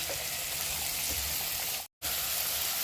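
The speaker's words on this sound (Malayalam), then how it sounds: "ഒരു 4-5 ബീൻസ് ചെറുതായിട്ട് നറുക്കിയത്, ഒരു ചെറിയ ക്യാപ്സിക്കം എല്ലായിട്ടും നമുക്കൊന്ന് വഴറ്റിയെടുക്കാം" Mushrooms, chopped beans and a small capsicum sauté in a pan for white sauce pasta, giving a steady, close, broadband sizzle that runs without a break except for one short silent gap.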